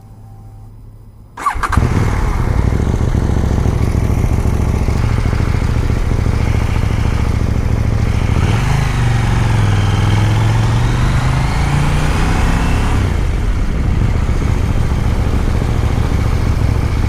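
A KTM 890 Duke R motorcycle engine fires up after a brief quiet moment, then runs loud and steady up close, with a rising rev partway through before settling back to a strong idle.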